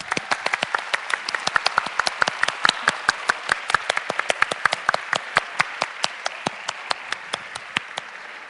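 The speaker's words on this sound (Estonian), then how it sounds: "Aplaus." Audience at a live stage show applauding as mentors walk on, a steady dense burst of clapping from many hands, loud and sustained throughout with no talk over it.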